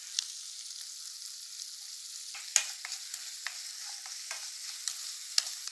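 Sliced onion with salt frying in a pan, a steady soft sizzle with occasional small pops and stirring clicks, fairly quiet and close, no talking.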